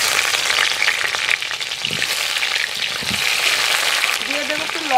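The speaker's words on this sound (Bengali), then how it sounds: "ওলগুলো এবার ভেজে নেব" Pieces of elephant foot yam fry in mustard oil in a kadai, giving a loud, close, steady sizzle and crackle, with a voice heard briefly near the end.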